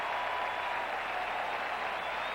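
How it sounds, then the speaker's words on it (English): Stadium crowd at an NFL football game between the San Francisco 49ers and Los Angeles Rams, a steady distant roar of cheering and applause throughout. "The crowd reacted first to the fact Clark got a punt high, and then they reacted to the good coverage"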